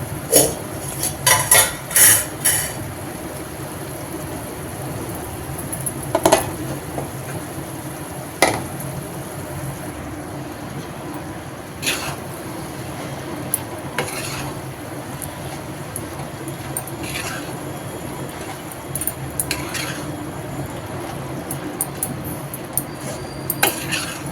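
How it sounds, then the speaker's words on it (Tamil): Cooked rice is stirred into tomato thokku in a pan, with repeated scraping and clinking of a spoon against metal over a low sizzle, in irregular bursts through the stretch. "இப்போ வந்து நம்ம சாதம் கொட்டி கலந்துக்கணும்"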